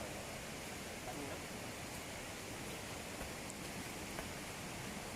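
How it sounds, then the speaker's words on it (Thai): A waterfall at a forest campsite in Rabiang Prai Valley, Nakhon Nayok, makes a steady, even broadband rush that holds without pause throughout, soft and somewhat distant. "ได้ยินเสียงน้ำตกแล้วอะ"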